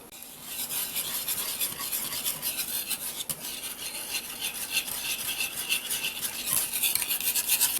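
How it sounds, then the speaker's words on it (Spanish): A whisk stirs mustard into a tuna pasta salad in a bowl, giving a steady, bright scraping and rasping swish with a quick rhythmic beat, close and alone. "Y con la ayuda de nuestro batidor."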